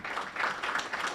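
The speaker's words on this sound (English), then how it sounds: "Another round of applause," Audience applause at an event unveiling a group of investees: a brief, steady wash of many hands clapping, moderately loud, with no talk over it.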